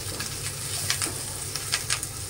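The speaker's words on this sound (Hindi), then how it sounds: "प्याज को मैंने भून लिया है कड़ी पत्ता डालेंगे मिलाएंगे" Curry leaves fry with onion in a pan, a steady bright sizzle with sharper crackling spits and the occasional stir, no voices over it.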